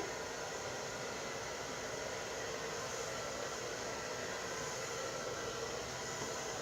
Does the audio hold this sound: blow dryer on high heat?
yes